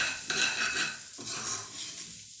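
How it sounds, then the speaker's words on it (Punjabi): Broken wheat (daliya) is roasted in a pan over low heat while being stirred, soft scraping and shuffling strokes with a faint sizzle, quiet and close. "ਦਲੀਆ ਨੂੰ ਆਪਾਂ ਚੰਗੀ ਤਰ੍ਹਾਂ ਭੁੰਨ ਲਵਾਂਗੇ ਮੱਠੀ ਮੱਠੀ ਆਂਚ ਤੇ"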